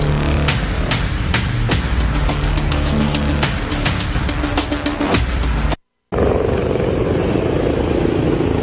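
Loud, continuous military helicopter rotor chop with rapid rhythmic blade thumps, close and steady, at an air show in Malaysia, then a brief dropout before a rumbling engine roar continues.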